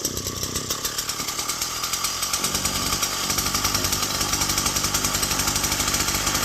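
A small two-stroke engine on an old Japanese three-row rice paddy weeder runs loud and close, revving with a rapid buzzing pulse that climbs steadily in intensity.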